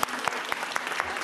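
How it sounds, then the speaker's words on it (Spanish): A television audience in Aínsa, Sobrarbe gives a brief round of applause for a guest named Rosa, with clapping and a few distinct beats over about a second. "Un aplauso para Rosa."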